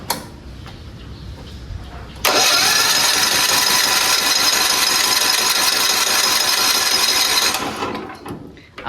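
A small engine with a sanded spark plug is pulled over and catches, jumping from quiet background to a loud, steady running drone that holds for about five seconds before cutting out and fading.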